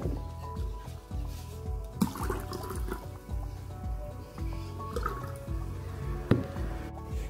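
Salted and unsalted water are poured together and mixed in a container, giving a continuous close splashing and gurgling with scattered drips and small knocks throughout.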